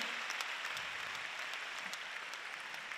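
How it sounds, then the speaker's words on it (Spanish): Applause for a guest fills a gala awards ceremony in Navarra, a fairly faint, even patter of many hands that continues steadily throughout. "Un fuerte aplauso para él."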